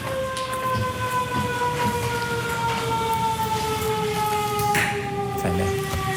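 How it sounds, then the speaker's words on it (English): A wailing siren sounds in the distance outside a courtroom, its tone sliding slowly downward, over a steady background rumble and faint patter. "I was just waiting for the siren"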